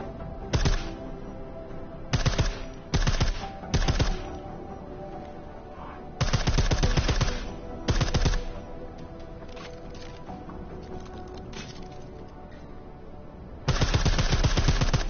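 Silenced gunfire from a shooter video game on PS4: short muffled bursts and single suppressed shots in uneven clusters, with longer sustained bursts near the end, close and fairly loud with no talk.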